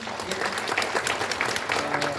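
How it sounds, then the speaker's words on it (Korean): Audience at a humanities seminar in Daegu claps steadily, a full, continuous wash of applause with faint voices beneath. "한 번 더 큰 박수 부탁드립니다"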